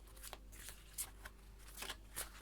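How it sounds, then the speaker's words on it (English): A tarot deck is shuffled in quick, quiet riffling bursts, several soft card flicks in close succession with no talking. "I'm gonna shuffle the cards"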